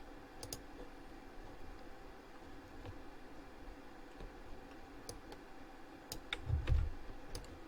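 Computer mouse clicking while sketching in a drawing program, sparse faint clicks scattered over a quiet room hiss, with a low soft thump near the end and no talk.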